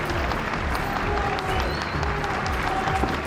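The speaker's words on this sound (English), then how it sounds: "The sombre silence of her journey broken by bursts of applause from the crowd." Bursts of applause ripple through a large crowd lining the route of a royal funeral procession, steady clapping heard at a distance with low murmuring underneath.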